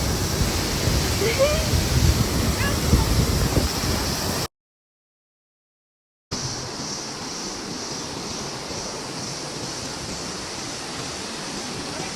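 Jang waterfall near Tawang roars as a broad, steady rush of falling water, cut by a brief gap of silence before the constant wash resumes.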